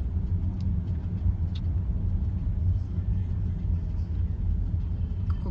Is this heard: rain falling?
no